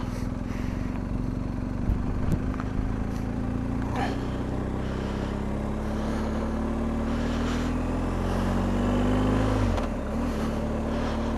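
A BMW R1250 GS Adventure motorcycle with a boxer engine and quick shifter rides on an open road, its steady engine drone rising in pitch through a long pull and dropping near the end, with constant wind noise.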